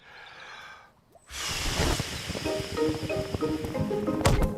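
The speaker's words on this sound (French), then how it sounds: "Je vais souffler très fort sur la voile et il va avancer." A brief breath, then a long, forceful blowing rush of air on a toy boat's sail in a Peppa Pig cartoon, close and noisy, with light clatter mixed in.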